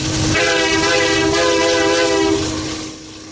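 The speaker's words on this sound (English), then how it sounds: "aren't expecting a horn show from the loud K3H" A loud K3H air horn on a CN freight train blares as one sustained chord, close and overpowering, then fades slightly at the end.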